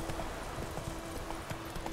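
Horse hooves clip-clop at a steady walking rhythm in The Witcher 3 video game, the evenly spaced thuds sitting over a constant background ambience.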